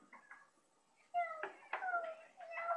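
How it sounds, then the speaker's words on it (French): A pet cat gives a few short, rising meows and mewling cries in quick succession, soft and close in a quiet room, during a Minecraft survival session. "Bah, c'est mon chat."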